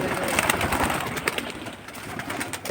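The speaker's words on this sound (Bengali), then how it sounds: "সুন্দর সুন্দর মাদি কবুতর দেখেন" Pigeons at a breeding loft of female high-flying birds coo and call in a busy, overlapping chorus, with steady chatter and wing noise continuing throughout.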